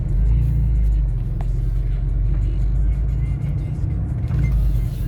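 A 2001 Porsche Carrera 4 cabriolet drives along with a steady, deep engine rumble and road noise, fairly loud and continuous throughout.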